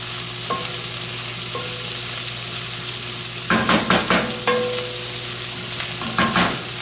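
Food sizzles steadily as it fries in oil in a pan over medium-high heat, with a few stirring scrapes and clatters breaking in toward the end, loud and close with no talking.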